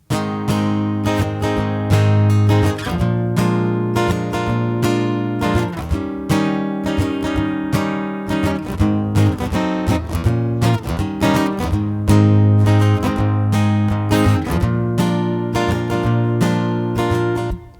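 Strummed guitar chords ring out in a steady rhythm, the chorus of the song, full and continuous with a strong low end, no voices over the music.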